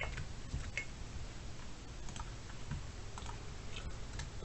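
Light, sparse keystrokes tap on a computer keyboard while a Python numerical-methods calculator is being run, with scattered clicks and short pauses against a quiet room hum.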